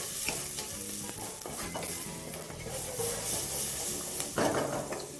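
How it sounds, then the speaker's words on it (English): Onions fry in oil in a pan with a steady sizzle, broken by occasional stirring scrapes and a louder hiss near the end, close and continuous with no talking. "fry your onions until they're just translucent and they start to"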